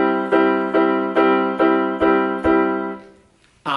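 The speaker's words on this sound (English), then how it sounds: "If I were to play that with tenuto markings, it might sound like this." Seven evenly spaced sustained notes, each held nearly to full length before the next with only a slight break between them, ringing clearly and loudly, then a brief fade and the sharp start of another sound at the end.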